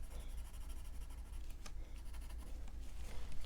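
A Crayola colored pencil pressed hard onto paper makes a steady, dry scratching that runs throughout, close and fairly quiet, with no voices.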